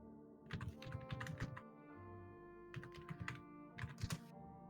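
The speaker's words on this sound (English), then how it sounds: "What are you typing there, Serenity?" Someone types on a computer keyboard in three short bursts of quick clicking keystrokes separated by pauses, close and fairly faint over a steady background hum.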